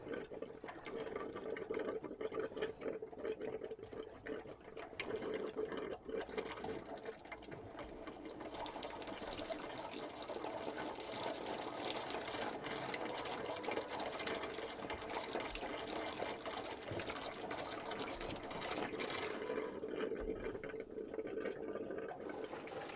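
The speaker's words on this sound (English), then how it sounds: "this is what will happen when you put water back into the boiler" Water refills the boiler system of a Dethleffs Globe 4 motorhome, a steady, quiet hissing and gurgling rush of pressurised flow that runs continuously and evenly throughout.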